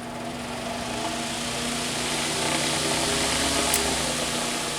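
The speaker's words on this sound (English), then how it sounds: "here's my little Emerson fan" A small Emerson oscillating desk fan fitted with a new switch runs nearby, giving a steady faint motor hum with a soft whir and no voices.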